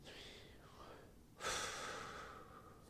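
Slow, audible breathing during progressive muscle relaxation, with a soft exhale fading out, then a sudden stronger breath that stays loud and gradually tapers, close and alone.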